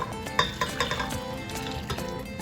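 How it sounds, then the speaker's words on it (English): A spoon stirring peanut butter into custard in a bowl for peanut butter ice cream, with soft scraping and a few light clinks against the bowl in close, steady strokes. "Start mixing it together."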